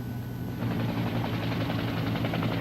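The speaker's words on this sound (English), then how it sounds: "a television news camera helicopter overflew the crash site" A television news camera helicopter flies over a crash site, its rotor throbbing in a steady, dense low pulse that grows slightly louder after the first half second.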